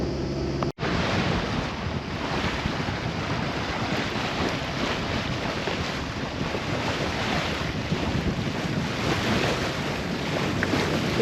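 Strong headwind blows over a sailboat crossing the sea between Ithaca and Cephalonia, a loud continuous roar of wind buffeting the microphone mixed with rushing water and waves, with a sharp dropout near the start.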